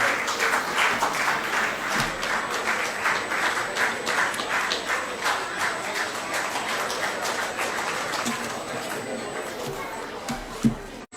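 An audience applauds a champion at an abacus competition award and graduation ceremony, with steady, dense clapping that holds for several seconds and then eases off, and some murmuring chatter underneath.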